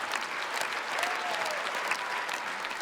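A concert hall audience claps in a dense, sustained round of applause, steady and fairly far off, without talk.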